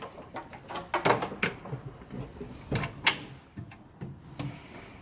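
A drawer on a welding push cart is pulled open and shoved shut, a series of sharp metallic clunks and sliding rattles at close range, irregularly spaced, with no voices.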